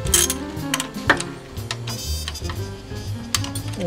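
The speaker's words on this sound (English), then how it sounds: "Now we're going to take all of these bolts" A hand ratchet loosening bolts on the inverter of a 2010 Toyota Prius, rapid close mechanical clicking in short bursts, steady and fairly loud with no speech.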